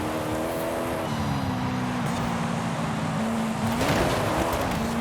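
A 2016 Koenigsegg Regera in Forza Horizon 5 drones loudly and continuously at high speed, its engine pitch dipping and rising again near the end.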